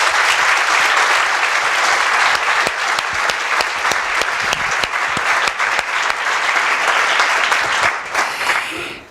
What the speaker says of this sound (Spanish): Un aplauso para ellas, por favor.